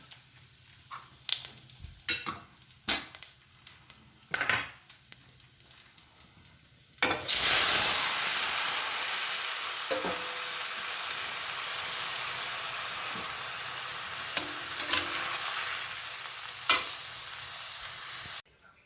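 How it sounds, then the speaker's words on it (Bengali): Spatula taps and scrapes in a pot give way to a sudden loud, sustained sizzle as fried bata fish goes into a vegetable curry of potato, carrot and papaya, with occasional stirring clatter over the hiss. "বাটা মাছ ভাজা এই ঝোলে দিয়ে দেবো।"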